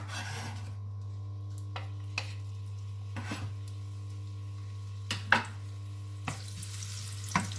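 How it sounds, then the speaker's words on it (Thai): Vegetables stir-fry in vegetable oil with garlic. A steady, quiet sizzle sits under a constant low hum, broken by occasional scrapes and clacks of a spatula in the pan, with no one talking. "ผัดผักเลย น้ำมันพืช กระเทียม"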